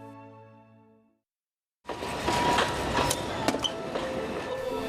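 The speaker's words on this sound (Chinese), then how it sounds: "阿里山小火车沿路经过所在" An Alishan Forest Railway train in the Taiwanese mountains sounds after a brief quiet gap, a steady close rumble with scattered rail squeals and clicks, and a held harmonic tone fading out at the start.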